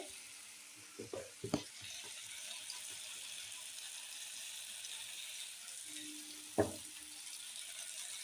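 Garlic and a little oil sizzle in a pan with a soft, steady hiss, broken by a few quiet knocks and clicks near the start and once more later.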